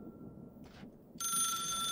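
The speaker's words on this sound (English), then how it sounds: "Phones ringing." A phone rings electronically in the video game The Suicide of Rachel Foster, starting abruptly partway through and continuing steadily loud over a low background hum.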